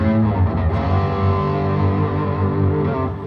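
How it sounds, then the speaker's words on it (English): Electric guitar run through a Boss GT-1000 multi-effects unit with ping pong delay, a sustained distorted, rich tone with bouncing echo repeats, loud and close, played alone with no talk. "hopefully you should hear some ping pong delay going on there"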